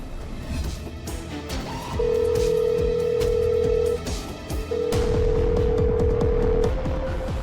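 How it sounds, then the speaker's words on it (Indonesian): Phone ringback tone on an outgoing call, two long steady tones with a gap between them, heard over faint room noise and no talk. "Coba aku telepon deh."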